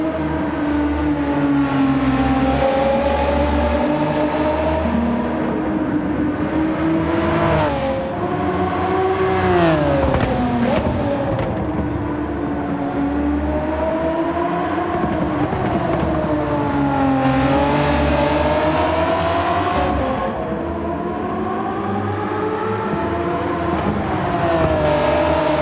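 Race car engine in Gran Turismo 7 during an online daily race, a loud, steady whine that climbs and falls through gear changes and corners, running continuously close up with no talking.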